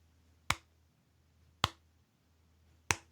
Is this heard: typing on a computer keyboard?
no